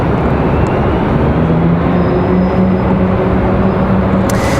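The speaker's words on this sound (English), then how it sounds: "There's that A321" An Airbus A321 jet airliner rumbles loudly and continuously at Raleigh-Durham International, a dense engine roar with a faint droning tone running through it and no talk.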